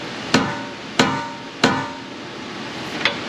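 Four sharp metallic hammer strikes hit a tight nut on a 2010 Honda Civic 1.3 CVT Hybrid, the first three evenly spaced and the last lighter, each ringing briefly over steady shop noise.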